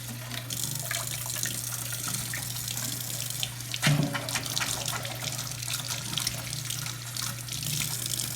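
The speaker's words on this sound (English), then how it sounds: "what we typically do is rinse it out just because it's dirty water" Tap water runs steadily into the dirty water tank of a Bissell Crosswave cordless floor cleaner, a continuous close splashing rush with a brief louder slosh midway, no voices.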